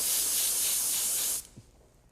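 A spray gun lays down a light mist of paint over a stencil, a steady close, loud airy hiss that runs for over a second and then cuts off abruptly, leaving quiet room noise.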